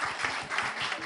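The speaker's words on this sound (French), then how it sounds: "applaudissez pour la stratégie" A short burst of applause from a crowd at a gathering, dense and fairly loud clapping with a slightly rhythmic pulse, heard alone for about a second.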